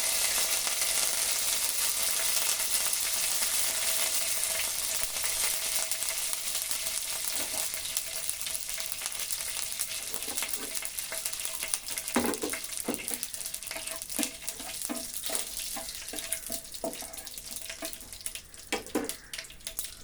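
Curry leaves and seasoning crackle and sizzle in hot oil for a tara leaf thoran, a dense steady frying hiss with sharp pops growing more frequent toward the end.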